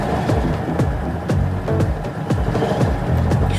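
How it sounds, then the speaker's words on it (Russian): A car running a manual gearbox with no oil, giving off a rhythmic series of knocks and clunks about twice a second over a low rumbling drone, close and fairly loud, with no talk. "Страшные звуки автомобиль издает"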